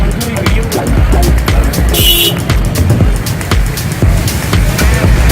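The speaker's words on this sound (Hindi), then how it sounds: "ट्रैफिक अक्सर जाम रहती है।" Busy street traffic at a crowded Taxila car market runs as a steady roar of engines and passing vehicles, with clicks and brief hisses, while people talk nearby.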